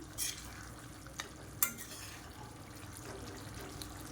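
Eggs roasting in spicy masala in a pan give off a faint, steady sizzle, broken by a few brief clicks of a stirring utensil.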